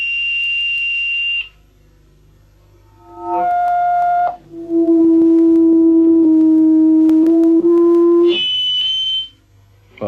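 A steady electronic tone rings at a single held pitch from controlled loudspeaker feedback, stepping between a few fixed pitches. Each tone is loud, pure and sustained, with short gaps of near silence between them.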